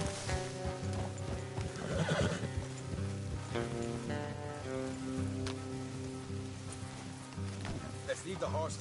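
In the video game Red Dead Redemption 2, horses whinny and snort while hooves clip-clop along a path, with rain pattering steadily in the background and a voice speaking now and then.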